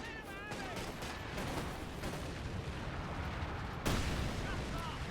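Artillery and incendiary shells in a Company of Heroes 2 4v4 match: a dense, continuous roar of distant gunfire and explosions with a sharper blast near the four-second mark, under a caster's voice.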